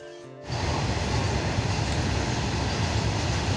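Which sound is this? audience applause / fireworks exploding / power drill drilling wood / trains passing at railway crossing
trains passing at railway crossing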